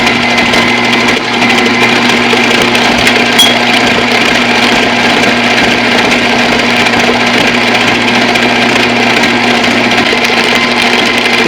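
An electric mixer beats eggs into a lemonade cake batter with a loud, continuous motor whine that holds steady and close throughout, with no one talking.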